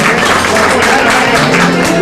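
An audience claps for an accordionist at a concert in Buenos Aires, a loud, dense, steady patter of many hands filling the whole moment, with a crowd murmur underneath.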